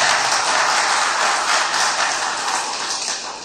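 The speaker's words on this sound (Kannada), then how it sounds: "ಎಲ್ಲರೂ ಒಂದು ರೌಂಡ್ ಚಪ್ಪಾಳೆ ಹೊಡಿಬೇಕು ನಿಮಗೋಸ್ಕರ ಅಂತ ಹೇಳಿದ್ದೀನಿ." A round of applause from an audience at a ceremony where certificates are handed out, dense steady clapping that slowly fades over a few seconds.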